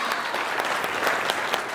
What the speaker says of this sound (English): big round of hot thunder applause